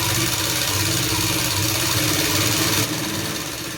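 Sewing machine stitching along a petticoat hem, a steady loud mechanical whir with continuous rhythmic clatter, near and running alone throughout before easing slightly at the end.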